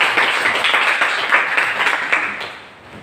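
A classroom of students claps for a group in a loud, close burst of hand clapping with audible individual claps, which carries on steadily for a couple of seconds before fading away near the end.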